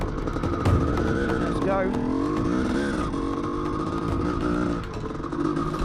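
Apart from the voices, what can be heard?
CR450 dirt bike engine revving on a track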